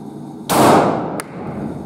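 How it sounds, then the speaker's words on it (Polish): A Walther PDP pistol fires at a shooting range, one loud, close gunshot ringing out, then a brief second sharp crack. "Tu jest 5 strzałów, słuchaj."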